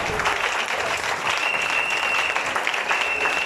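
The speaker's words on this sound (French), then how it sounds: "On se tient debout pour acclamer le Seigneur." Church congregation standing to acclaim the Lord in sustained, dense applause, loud and close, a continuous wash of clapping with crowd noise and a faint whistle running through it.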